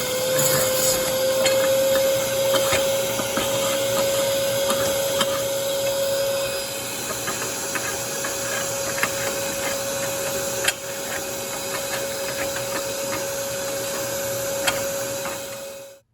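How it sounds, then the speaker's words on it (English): A shop vacuum roars steadily for a long stretch, with scattered clicks and rattles of rusty debris being sucked out through a tube of an old Snap-on automotive scissor lift. "I'm going to throw the vacuum on, and you'll hear all the crap coming out"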